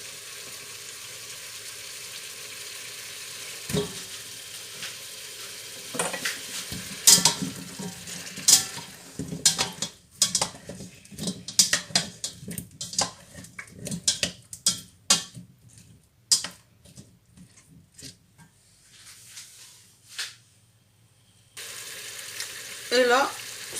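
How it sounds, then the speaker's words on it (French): Cauliflower and potatoes sizzle and fry in melted butter in a pot for a Potage Dubarry. Frequent scraping and clattering stirs recur throughout against a steady sizzle, loud and close, with brief quieter stretches and no talking. "dès que le beurre est fondu, on va ajouter le chou-fleur. On ajoute les pommes de terre."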